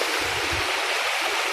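River water flows steadily at a swimming spot in General Nakar, Quezon, a close, continuous rushing wash with a low rumble underneath and no voices.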